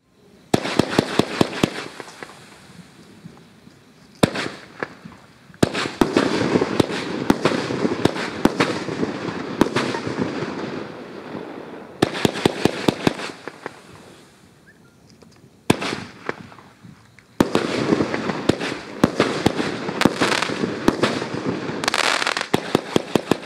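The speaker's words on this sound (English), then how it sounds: "Item number 24 is Pyrodelic, 500 grams from Black Hat Fireworks. Packed 4 ones, 30 shots." Pyrodelic 500 gram fireworks cake from Black Hat Fireworks, 30 shots, firing in repeated sharp bursts of loud pops and crackles with brief pauses between volleys.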